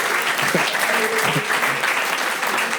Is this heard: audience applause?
yes